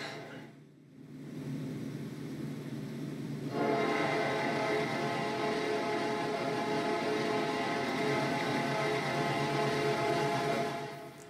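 A long freight train led by multiple engines, including a Dash 8 Spirit of America locomotive, passes in Trainz 2019, its steady engine drone and rolling wagons swelling louder after a few seconds and holding throughout.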